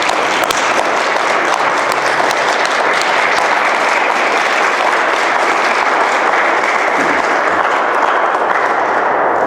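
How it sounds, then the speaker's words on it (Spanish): Loud, dense applause from a conference audience continues without a break throughout, an even wash of many clapping hands filling the room. "Y yo sugiero otro aplauso al Padre Lalo,"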